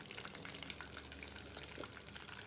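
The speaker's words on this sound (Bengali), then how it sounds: "চিকেনগুলো খুব ভালোভাবে ফ্রাই করে নিব।" Chicken frying in a pan gives off a close, continuous crackling sizzle with dense spitting pops and no voices.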